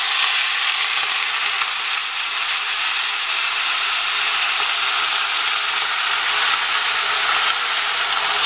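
Steady loud hissing and sizzling as hot boiled water is poured into a hot pan over pasta horns, a continuous rush of steam with no voices.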